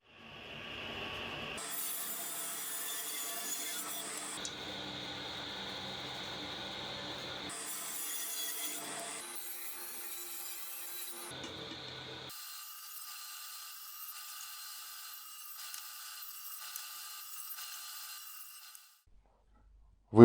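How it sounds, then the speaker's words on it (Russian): Table saw with its blade raised to 12 mm cutting grooves in wooden beehive parts for comb frames: a steady whining run of about eighteen seconds, shifting pitch as the wood feeds through, close and alone without talk. "Станок перенастроил в обратное положение, то есть пила выходит на 12 мм"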